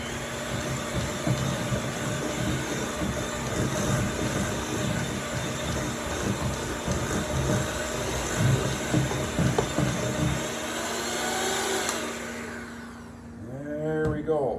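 A stand or hand electric mixer churns a half batch of Toll House chocolate chip cookie dough in a steady, loud drone for about ten seconds, then winds down and stops, leaving quieter kitchen room noise.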